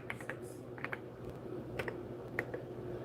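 Someone types names on a computer keyboard during a live stream, producing sparse, scattered key clicks over a steady low background hum, with no talking.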